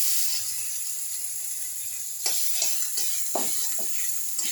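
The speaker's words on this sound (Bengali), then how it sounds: "এবারে আমি রসুন ফোড়ন দিচ্ছি।" Garlic sizzles in hot oil as it is tempered for a Bengali egg curry, after bay leaf and cumin: a steady, close frying hiss with a few sharper crackles and stirring bursts in the second half.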